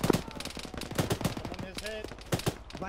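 Rapid automatic gunfire rattles in the military video game Arma, with dense bursts of close and distant shots layered together, continuous across the moment, with a voice briefly heard among them.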